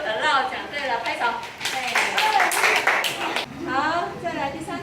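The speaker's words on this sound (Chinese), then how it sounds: "拍手" A group claps hands in a short burst mid-clip, with a voice and other talk before and after the clapping.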